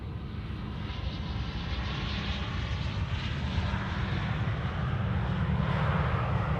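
An airliner on approach to Amsterdam Schiphol Airport's Oostbaan runway 22 gives a steady, moderately loud engine drone that holds constant throughout, with no talk over it.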